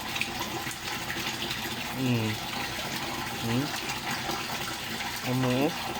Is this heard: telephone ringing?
no